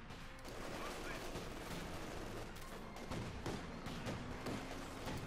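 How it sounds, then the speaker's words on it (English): Anti-tank rifles fire in a Company of Heroes 2 battle: dense, overlapping volleys of cracking shots keep up without pause over a rumbling battlefield din. "They're just by the sheer number of anti-tank rifles just blasting away at it"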